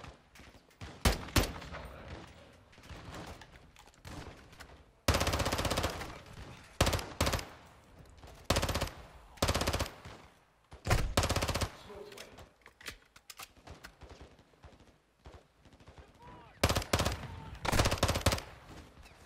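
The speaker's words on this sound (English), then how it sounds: "I'm being shot at a lot." Intermittent bursts of automatic gunfire in a Call of Duty: Modern Warfare 2 firefight, loud sharp volleys and single cracks scattered across the span with brief quieter gaps between them.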